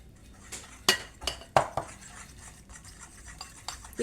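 A spoon stirs Christmas pudding mixture in a bowl, giving a series of irregular clinks and scrapes against the bowl, close and moderately loud, with no voices.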